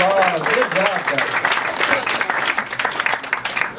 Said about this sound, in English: Let's give them all a warm hand of applause